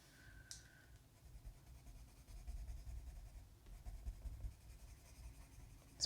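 Pencil colouring on paper gives a soft, continuous scratchy rasp of graphite strokes, quiet and close, with a brief brighter scrape near the start.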